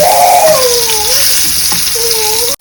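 Fish pieces frying in a pan, a loud, continuous close sizzle with some faint whistling tones over it, cut off abruptly near the end.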